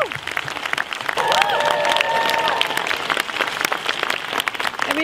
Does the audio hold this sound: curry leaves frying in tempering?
no